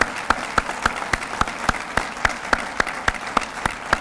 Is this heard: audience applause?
yes